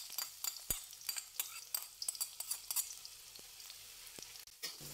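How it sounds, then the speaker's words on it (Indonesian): Garlic and shallots frying in oil in a home kitchen pan, a steady bright sizzle with scattered crackles and a few sharp utensil clicks and scrapes as they are stirred, close and continuous. "goreng bawang putih dan bawang merah dengan minyak secukupnya"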